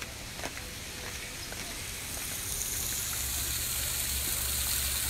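Water falling steadily into a covered thermal pool at Pamukkale, a continuous splashing gush with droplets landing, fairly close and growing slightly louder, with no talk.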